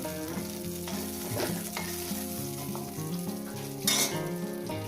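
Eggplant slices fry in hot oil with a steady, close sizzle, while light metallic clinks and tonal background music run beneath it, and one brief louder burst of spatter rises near the end.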